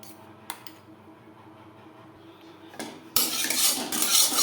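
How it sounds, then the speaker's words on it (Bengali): Eggs whisked in a bowl with chopped onion, green chili, salt and turmeric for an omelette: clinking utensil scrapes and taps against the bowl, quiet at first, then a louder, busier run of beating near the end. "পেঁয়াজ কুচি কাঁচা লঙ্কা কুচি লবণ হলুদ দিয়ে ডিম বেশ ভালো করে ফেটিয়ে নিলাম"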